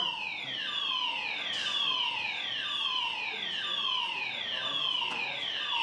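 A hotel smoke detector's fire alarm blares in a luxury hotel, a loud repeating electronic wail sweeping downward over and over in steady rhythm, filling the space without pause.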